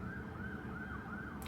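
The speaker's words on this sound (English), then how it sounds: "oh, ambulance, anytime." An ambulance siren wails in a steady, rising and falling tone as it passes outside, continuous and moderately loud over low traffic rumble, with no talking.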